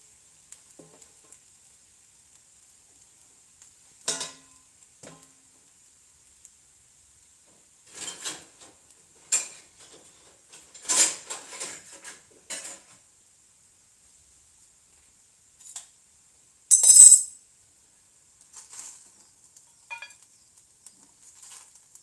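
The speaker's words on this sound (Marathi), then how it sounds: "यावर थोडंसं प्लेट झाकून ठेवायचं आहे" A plate set as a lid over a pan of usal gives scattered clinks and scrapes amid long quiet stretches, with one louder ceramic clatter near the end.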